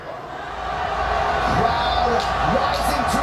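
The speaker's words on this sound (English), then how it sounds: "Crowd rising to its feet in appreciation of the master class performed by the undisputed bantamweight champion of the world." At a UFC bantamweight title fight, an arena crowd cheers in a broad swelling roar that builds and holds, with scattered shouts rising above it and a voice talking faintly over the top.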